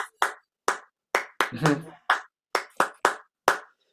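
Hands clap out the café con pan clave rhythm of Latin son music, a pattern of about ten sharp, close claps, with a voice briefly speaking partway through.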